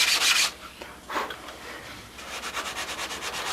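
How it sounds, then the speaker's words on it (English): Fiberglass on a Spitfire 22 model is sanded by hand, close up, with a burst of scraping strokes, a short pause, then a run of quick, even rhythmic rubs. "the trick is to sand it smooth but not go down through the glass"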